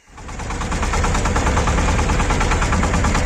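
A small mini tractor's diesel engine revs up quickly and then chugs loudly and steadily while driving through an oat field, a close, rhythmic thrum.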